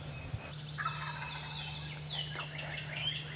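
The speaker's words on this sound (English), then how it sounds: "This turkey starts getting fired up on his own." A wild turkey in Indiana gobbles on its own, rapid warbling gobbles rising and falling at moderate distance over a steady low hum, with other faint bird calls mixed in.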